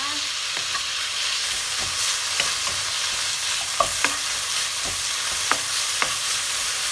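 Ingredients for a mixed vegetable curry (kaeng om) being stir-fried in a pan: a steady close sizzle with repeated scraping stirs of the spatula, no voices.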